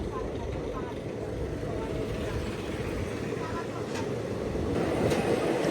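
The Circar Express, pulled by two locomotives on its run from Rajahmundry toward Chennai, makes a steady, continuous rumble heard from on board. The noise swells slightly toward the end.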